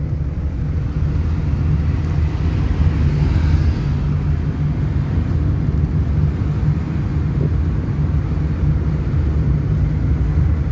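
A car engine hums steadily while driving in third gear on a single undivided road, a low constant drone with road and wind noise, close and even throughout.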